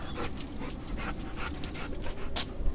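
A hungry dog pants by a grill where steaks are cooking, with quick, rhythmic, breathy pants close by and a faint whimper, with no talk.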